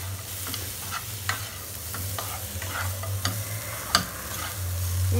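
Broccoli, potato and ground roasted peanuts fry in a pan as a spoon stirs through them, giving a soft steady sizzle with light scraping and occasional sharp taps against the pan, close and without talk.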